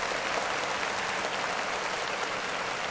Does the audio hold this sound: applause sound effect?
yes